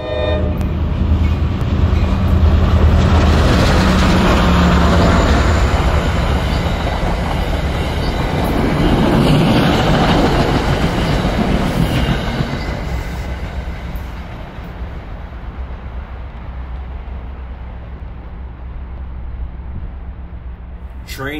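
A New Jersey Transit train rumbles past close by at Rutherford, a steady heavy roll of wheels on rails with metallic squeals, gradually fading as it moves away.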